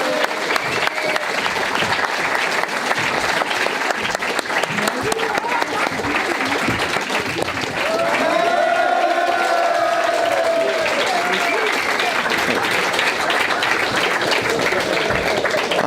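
Sustained theatre audience applause with some cheering greets a performer's entrance on stage, loud and steady for the whole stretch, with crowd voices mixed in.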